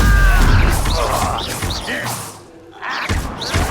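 A Confringo spell blast in the video game Hogwarts Legacy lands as heavy thuds and crashing bursts amid loud combat effects and voices, with a brief lull before another burst.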